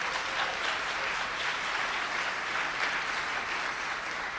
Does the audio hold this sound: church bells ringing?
no